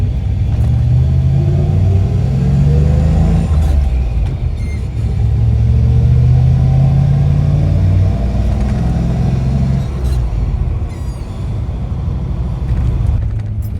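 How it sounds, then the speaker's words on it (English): A classic car slowing almost to a stop to cross a railroad track: a loud, continuous low engine rumble close by, with a few faint knocks as the wheels bump over the rails. "Going over a railroad track right now,"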